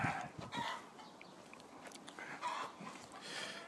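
Chickens cluck in a backyard garden near their raised hutch, with soft intermittent calls at moderate distance over faint outdoor background.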